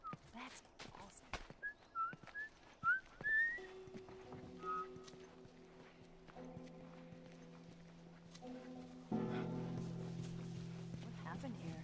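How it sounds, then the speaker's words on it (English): A character whistling a short rising tune in The Last of Us video game, brief melodic notes near the start over horse hooves clopping, followed by a sustained musical drone. "I'm whistling."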